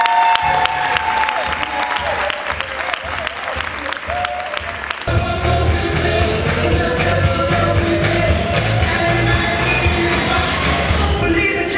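Crowd applause for 2015 Pain Empowerment Award honorees, the Black Girls Run co-founders, at an evening award ceremony; loud, dense clapping runs the whole time and swells about halfway through.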